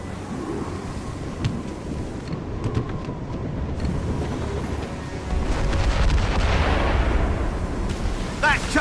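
Ship mortar fire during a naval ambush in Assassin's Creed Rogue: a heavy, rolling boom builds midway over steady wind and water noise, then rumbles on loudly, with a few brief sharp crackles near the end.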